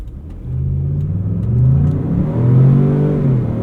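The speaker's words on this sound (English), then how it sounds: "Engine does sound good though. Should we do a little 0 to 60?" A 2025 Lincoln Navigator accelerates hard from 0 to 60, its engine note rising and swelling in two surging pulls, loud and close from inside the cabin with no talk.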